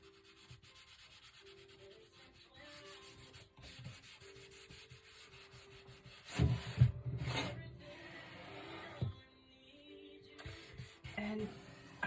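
A wooden sign is scrubbed to work paint out of its carved lines, making a steady close rubbing and scraping that swells into louder, rougher strokes partway through, with brief pauses between bursts.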